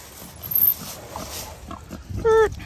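A pig grunts and squeals in a highland pasture, several short calls ending in one loud squeal, heard among outdoor noise and faint talk.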